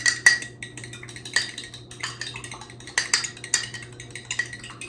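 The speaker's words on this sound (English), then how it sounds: "you're gonna take your 2 eggs and crack them because they need to be beaten before they go in" Two local eggs cracked and beaten in a bowl for hot cross bun dough: a crisp crack, then repeated quick light clinks of a utensil against the bowl, close and clear.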